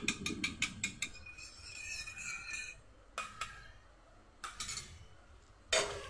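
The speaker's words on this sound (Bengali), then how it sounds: "দইটা আমি ফেটিয়ে নিচ্ছি।" A whisk beats yogurt (doi) in a bowl, rapid metallic clicking strokes against the side in short bursts separated by pauses, close and fairly quiet, with no talk.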